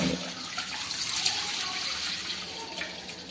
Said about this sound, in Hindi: सबसे पहले हम इसमें दूध डालेंगे।